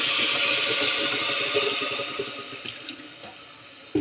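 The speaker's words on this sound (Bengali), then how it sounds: "এবার এর মধ্যে জল দিয়ে দেব" Water is poured into a pot of beetroot dalia khichdi, a close, rushing splash that gradually tapers off into a few scattered drips and small clinks.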